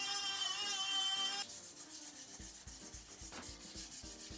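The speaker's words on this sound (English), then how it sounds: "the next thing to do is sort of sand these up a bit, sand these down and get them cleared up a bit" Sanding wooden chair legs cut from an up-cycled guitar, a steady abrasive rubbing that shifts after a moment into shorter, uneven strokes, close and fairly quiet with no talking.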